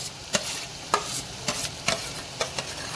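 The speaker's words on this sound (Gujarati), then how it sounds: "ટામેટાને પણ સાંતળી લઈશું।" Onion and tomato sauté in a pan for a dhaba-style desi chana masala, a low continuous sizzle broken by several sharp spatula scrapes and stirs at fairly even intervals, with no voices.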